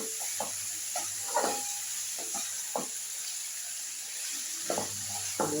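Fish coated in turmeric being lightly fried in oil, a soft steady sizzle with scattered clinks and stirring scrapes, fairly quiet and close, no talking.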